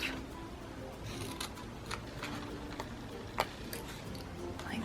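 Scissors trim folded craft paper for a star rosette embellishment, giving a quiet run of small, irregular snips and ticks, one slightly sharper click near the end, over a steady low background hum with no talking.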